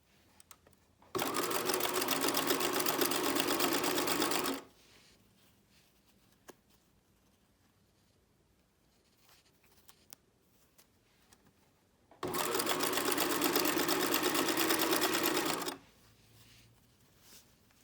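A sewing machine stitches elastic onto a bralette in two steady runs of a few seconds each, loud and close, separated by a quiet pause with small handling clicks.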